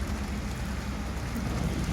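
Steady rain pours down during the monsoon season, a dense, even hiss with low rumbling underneath, unbroken and fairly loud throughout with no voices.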